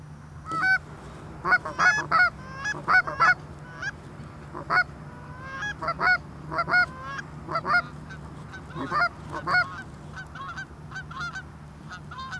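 Geese honk repeatedly at a moderate distance during early goose season in Michigan, calls coming in irregular bursts over a low steady background hum.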